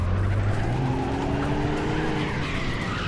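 A BMW E60 passes close by in the City Car Driving simulator, its loud engine droning steadily with a low tone sliding down as the car moves off, and faint tire squeal over continuous road noise.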